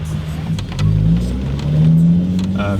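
A Volkswagen Corrado VR6 engine revs up and climbs in pitch, loud and close, with a steady rising drone and a brief second surge.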